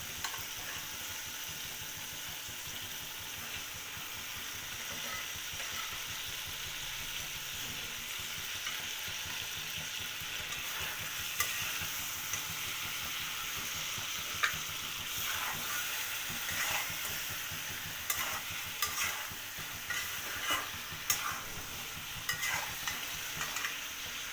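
Rohu fish heads fry and get stirred in a pan for a mung dal dish. A steady close sizzle and hiss run throughout, punctuated by scraping stir clacks in the second half.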